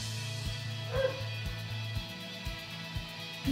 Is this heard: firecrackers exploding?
no